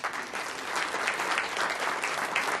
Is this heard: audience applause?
yes